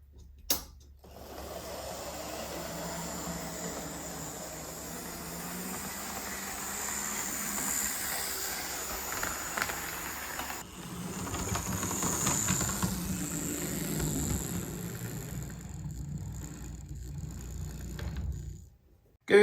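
A Hornby Intercity 125 model train runs with its coaches in tow, its motor and gears giving a steady, close mechanical whirr and ratchety clicking for about nineteen seconds, with a shift in tone partway through before it stops.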